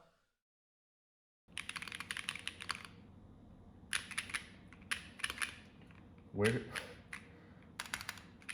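Bursts of close typing clatter on a budget mechanical keyboard fitted with case foam and the tape mod. Clusters of crisp, muted keystrokes are separated by short pauses, with one heavier thock near the end.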